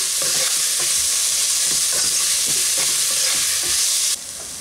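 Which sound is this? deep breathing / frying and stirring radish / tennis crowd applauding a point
frying and stirring radish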